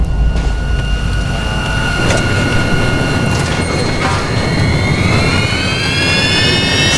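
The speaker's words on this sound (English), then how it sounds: "I'm next to a jet turbine that looks like it's about to explode." A jet turbine roars in the video game Dead Island 2, a loud, steady engine drone with a high whine that bends slowly upward, running continuously with no talk over it.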